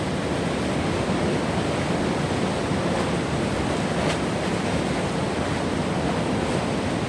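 Strong wind with rain roars continuously with a heavy, steady rush buffeting the microphone, no voices.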